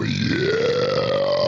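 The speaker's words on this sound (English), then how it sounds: "I could have burped like that." One long, loud burp after drinking beer, close to the microphone, a deep croak that rises in pitch and holds steady for over a second before cutting off.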